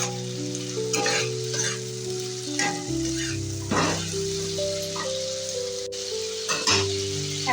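Ginger garlic paste fries in an aluminium pot with a steady sizzle, punctuated by regular scraping stirs of a spoon against the pot.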